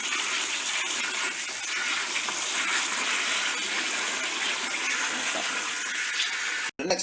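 Tap water gushing steadily into a bowl of callaloo to soak it in salt water, a constant bright splashing rush that cuts off abruptly near the end.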